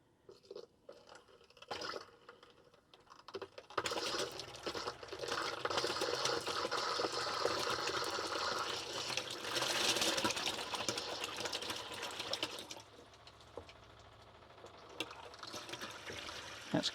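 A campervan tap runs with water spluttering and gurgling as trapped air spits through the water system, irregular bursts and trickles that grow louder midway and then ease, fairly faint and close.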